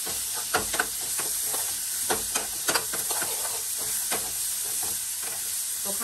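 A tadka of chillies, salt and spices sizzles in a frying pan with a steady, bright hiss throughout. Occasional soft knocks of a utensil stir through it, close and continuous.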